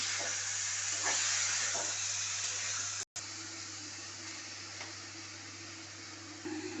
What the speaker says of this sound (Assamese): মই ইয়াতে এতিয়া পানীটো দি দিম